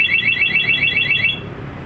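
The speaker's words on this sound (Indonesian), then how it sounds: "Nah, ini alarm aktif dengan mode suara ya." A Masteracing one-way alarm on a Yamaha XSR 155 motorcycle sounds alone, a rapid warbling electronic tone pulsing steadily for about a second and a half before cutting off.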